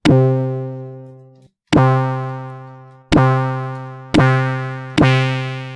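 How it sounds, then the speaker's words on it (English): Five bright Commodore 64 chiptune synth notes strike in sequence, each decaying quickly with a springy, bouncing pitch slide like a stretched rubber band. "We have this bouncy effect, like a rubber band."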